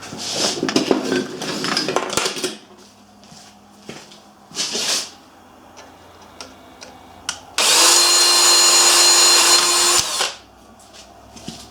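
Rivet being drilled out on a Briggs engine: a steady power-drill whine for about two and a half seconds, preceded by scattered metallic clinks and handling clatter at close range, with no talking.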